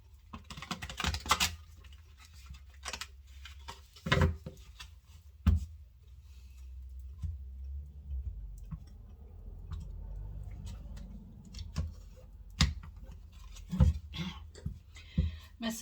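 An oracle card deck being shuffled by hand in a quiet room, with irregular bursts of crisp card flutters and taps separated by near silence.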